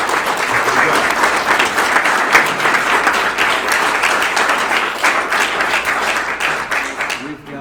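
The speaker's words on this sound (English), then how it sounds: "Let's give him a round of applause." Dense, sustained applause from a seated audience at the close of a tax policy panel discussion, loud and steady throughout and tapering slightly at the very end.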